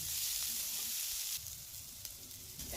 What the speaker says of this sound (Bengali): এবার এই পেঁয়াজটাকে ভালো করে ভেজে নেবো